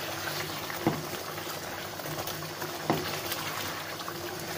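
Goat meat simmers in a pot of water over a low flame, giving a quiet, continuous bubbling with a couple of sharper pops, close by and without talk.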